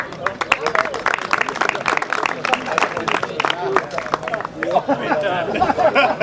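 A crowd claps steadily throughout, with lively chatter and voices mixed into the applause.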